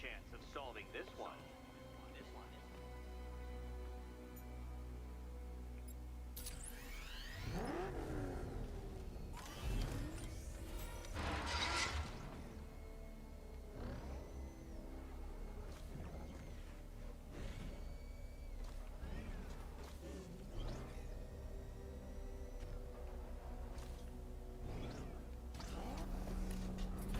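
Car driving and flipping over in the video game Batman: Arkham Knight, with engine rumble, whooshes and crashing impacts mixed with game music and voices talking over it throughout.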